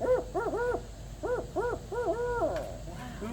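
A person's voice imitates a barred owl's hooting call, "who cooks for you," a rhythmic series of wavering hoots in quick groups, clear and close.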